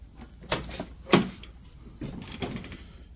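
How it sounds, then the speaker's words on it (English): Someone opens the door of an Arctic Cat Wildcat 1000 XX UTV, producing a pair of sharp latch clicks and clunks followed by softer rattles of the plastic panel, close and fairly quiet, with no talking. "Let's open this door."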